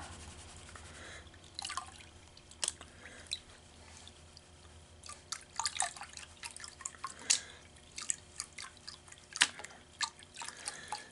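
Gold pay dirt fines are panned in water, giving soft irregular splashes, drips and trickles that build to denser sloshing toward the end, faint and close without any talk.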